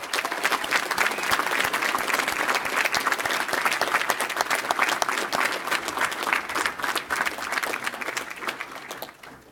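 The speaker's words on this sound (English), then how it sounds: "please join me once again in giving our governor, Phil Scott, another round of applause." A crowd at a Vermont Republican Party election night event applauds for Governor Phil Scott, dense sustained clapping that holds steady for several seconds before tapering off.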